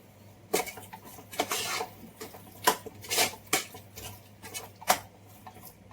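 Mutton masala is stirred in a pan over a low simmer, with repeated scraping and clanking strokes of a utensil against the metal at an uneven rhythm, close and moderately loud, with no talking.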